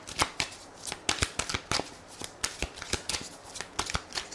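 Oracle cards are shuffled by hand in a quick, uneven run of crisp riffling snaps and soft slaps, close and fairly clear, with no talking over them.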